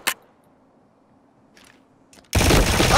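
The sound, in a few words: gunshot in the video game Ring of Elysium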